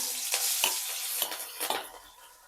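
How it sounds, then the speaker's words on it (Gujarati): Asafoetida, curry leaves and green chilies sizzle in hot tempering oil while being stirred, a bright crackling hiss with several louder spits and pops, close and steady, easing off toward the end. "ચપટી હિંગ, મીઠા લીમડાના પાન, લીલા મરચાં"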